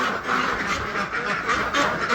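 Ducks on a homestead quack in a steady, busy chorus close by, the calls overlapping without pause under broad outdoor noise.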